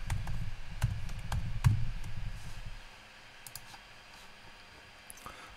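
Computer keyboard typing: a few sparse, light key clicks scattered through the stretch, quiet and close, over a low background rumble that fades partway through.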